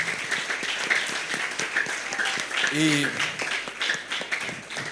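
Applause from a small audience for two guests on a youth podcast, a light patter of clapping running under and between spoken voices, with a brief tonal sound near the middle.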